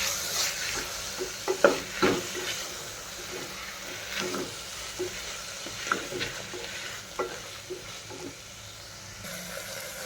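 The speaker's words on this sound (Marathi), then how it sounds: "आता हे छान आता व्यवस्थित आपल्याला 1 ते 2 मिनिट व्यवस्थित मिक्स करून घ्यायचं आहे" An egg biryani mixture is stirred in a pressure cooker, with repeated scraping and clinking strokes of a spoon over a gentle sizzle, close and alone.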